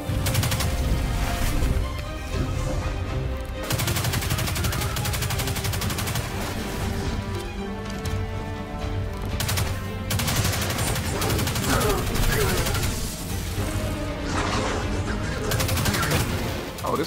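Sustained automatic gunfire in the Destiny 2 beta, a video game, rattling loudly and continuously, with repeated bursts and dense rapid shots running nearly the whole time.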